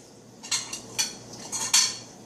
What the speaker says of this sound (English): we're going to put it into our big mixing bowl, like so.